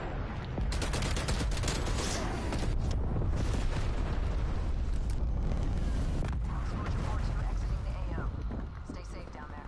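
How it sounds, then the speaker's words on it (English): A cruise missile strike rains down in a video game, a dense, continuous barrage of booming explosions and rattling blasts that roll on loudly for several seconds, with voices faintly mixed in. "Cruise missile inbound."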